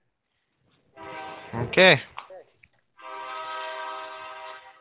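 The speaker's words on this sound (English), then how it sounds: "Sorry about the train." A train horn sounds from a nearby passing train during a tabletop role-playing session: a long, loud, steady blast, a brief spoken word, then a second sustained blast.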